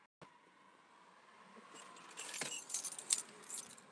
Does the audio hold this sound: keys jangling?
yes